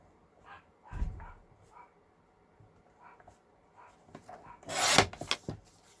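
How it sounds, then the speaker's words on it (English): Paper being trimmed with a paper cutter while making a floral journal: quiet handling and rubbing sounds, then a louder scraping slice near the end, close by, with no talking. "I'm gonna just bring my cutter out here and trim it that way"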